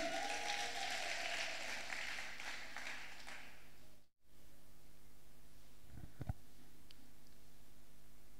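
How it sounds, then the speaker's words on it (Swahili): A church congregation breaks into loud, steady applause for Jesus during a sermon. The clapping fills the first few seconds, then drops away to quiet room tone with a few faint thumps. "Pigia Yesu makofi."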